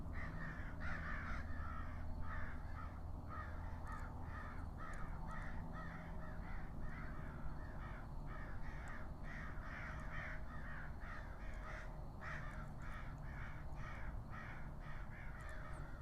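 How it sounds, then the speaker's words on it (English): Roughly eight crows fight in a tree outdoors, letting out a long, continuous series of rough caws in irregular bursts, some distant and some nearer, over a constant low ambient hum. "Sounds like there's a crow fight."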